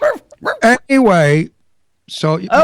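A man imitates a dog, letting out a loud, drawn-out vocal bark-like yelp between bits of casual talk, followed by a brief pause and more speech.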